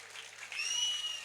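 Applause from the audience at a Tamil stage drama, a steady burst of clapping that swells slightly halfway through and continues to the end.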